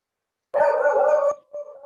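A leashed dog lets out a loud, sustained howl close by, holding for under a second before breaking off and resuming briefly.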